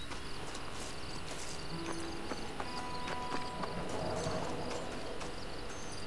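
A horse's hooves clip-clop softly in Red Dead Redemption against an outdoor bed of chirping crickets, the steps faint and half-buried in the ambience.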